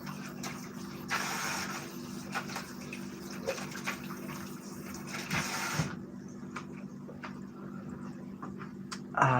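An object is washed under running water: a steady tap-water gush with rattling and knocking for about six seconds, then the flow stops, leaving sparse clicks and handling noises.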